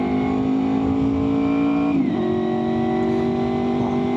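A Honda VFR800fi motorcycle engine holds a loud, steady drone close by, then dips in pitch as the revs drop off throttle, ridden on a rainy road.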